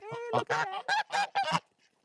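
Several geese honk in a rapid series of loud, close calls, a few bursts tumbling over one another before trailing off into quiet, with no talking.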